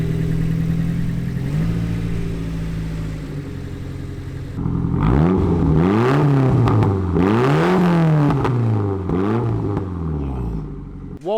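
A Nissan Pulsar GTI-R with an SR20 engine, heard up close as it idles, then revs repeatedly in rising and falling sweeps with whooshing intake and exhaust, loud and alone.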